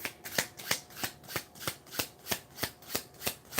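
Tarot cards being shuffled in an even rhythm, about a dozen crisp riffles at regular intervals, close and clear with no one speaking.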